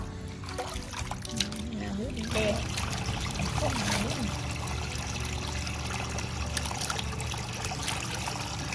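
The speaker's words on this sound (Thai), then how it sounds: "อันนี้เราก็มากระบวนการล้างนะครับ เราจะล้างก่อนสัก น้ำสองน้ำนะครับ" Bamboo shoots are rinsed in water, with a steady trickle and pour of running water accompanied by intermittent splashing and handling noises, close by and continuous.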